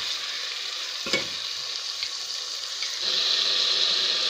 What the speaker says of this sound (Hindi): मुझे अभी इसे तकरीबन 4 से 5 मिनट तक फ्राई करना है।